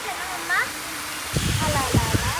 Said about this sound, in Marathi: पाण्याचा फ्लो चारही बाजूनी होतोय. पाणी सगळं अंगावरती येत आहे,